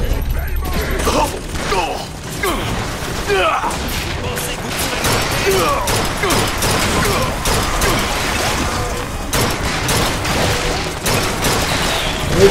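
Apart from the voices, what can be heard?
turret deploying and firing in the video game BioShock Infinite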